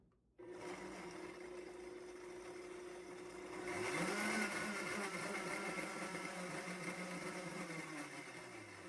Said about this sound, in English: we're going to go ahead and blend this